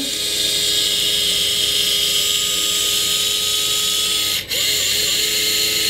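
A cordless gyroscopic power tool used in automotive work whirs in a loud, steady high-pitched drone that briefly cuts out near the end before resuming; no one talks.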